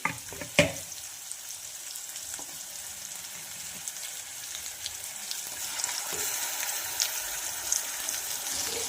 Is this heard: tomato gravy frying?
yes